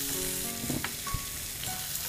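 Beef sizzles as it fries in a pan seasoned with lemon juice, a close, steady crackling hiss with a few stirring clinks, no voices.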